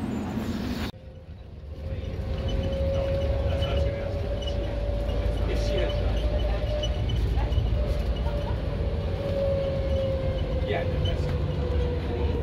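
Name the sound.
airport tram moving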